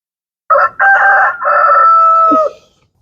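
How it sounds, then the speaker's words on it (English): A pet rooster in a home garden lets out a single loud, close crow lasting about two seconds, rising and then trailing off, with no other sounds around it. "Sorry, my rooster's crowing."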